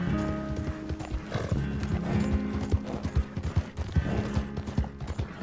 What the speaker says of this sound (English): I know I have the fastest horse, second fastest horse in the game, but ride!